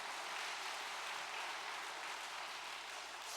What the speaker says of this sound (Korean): 박수 한번 치셔요.